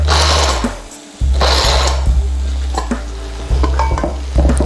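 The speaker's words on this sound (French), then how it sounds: "Et on va les hacher grossièrement." Walnuts are coarsely chopped with a knife on a board, giving a series of close, loud thuds and crunches, one brief pause near the start, and a low hum beneath.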